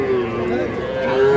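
A young Sahiwal calf, around three to four months old, gives a single long, loud moo at a cattle market, with a voice talking faintly underneath.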